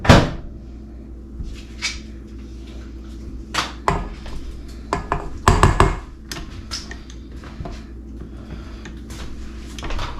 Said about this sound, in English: I'm gonna just scrape my bread hook off